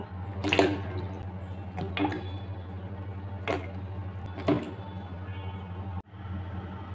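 Cut vegetables, ridge gourd, pointed gourd and potato, being washed by hand in a bowl of water, with a few sharp splashes and drips over a steady low background hum and no talking.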